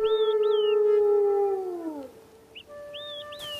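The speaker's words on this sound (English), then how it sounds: "Their howling takes on a mournful, searching quality, as if they are trying to call Mataki back." Wolves in a pack howl in long, mournful, overlapping tones, one deep howl sliding downward while higher wavering voices rise and fall alongside, sounding fairly close and clear.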